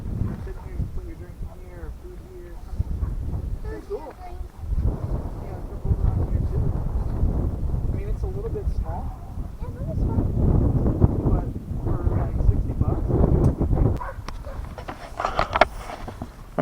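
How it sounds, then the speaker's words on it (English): Gusty wind buffets the microphone outdoors while setting up an Ozark Trail camping tent, a steady low rumble running through the whole stretch with louder surges, under people talking. "It's pretty windy today, so I'm wondering if it'll just all blow away."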